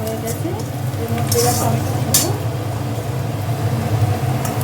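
Food fries in a pan during the cooking of a Bengali fish curry, a steady close sizzle with a few brief bursts of louder spattering and some stirring, loud and continuous throughout.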